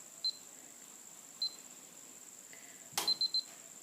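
A YI action camera with an Ambarella A9SE processor and Sony 12MP sensor gives short electronic beeps as recording stops, one at a time and then a quick triple beep after a sharp button click, all faint and close.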